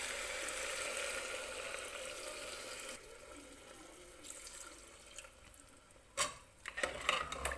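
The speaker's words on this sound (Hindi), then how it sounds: "अब डालेंगे इसमें पानी।" Water poured into a pan of frying mixed vegetables for pulao, a steady hiss and splash that softens midway, then sharp clattering bursts and sputters near the end, no voices.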